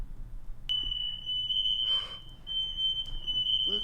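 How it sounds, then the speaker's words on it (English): A household smoke detector sounds a piercing, steady high-pitched tone that starts abruptly and continues without a break, with some muffled movement and background noise underneath. "Tried to turn the smoke detector off."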